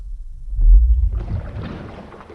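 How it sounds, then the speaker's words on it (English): A slowed-down recording of an air bubble in water becomes a deep, loud sub-bass rumble that swells and then fades into a hissy, murky wash, with no voices. "Once we slow it down, it sounds something like this."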